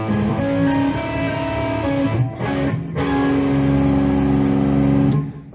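Electric guitar plays an opening lick from an open A pickup note, sustained harmonic tones ringing steadily across the clip with a brief break in the middle.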